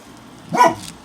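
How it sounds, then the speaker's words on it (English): A single short dog bark rings out nearby in a house during an air rifle and pellet review, loud against a quiet background. "Excuse my dogs back there."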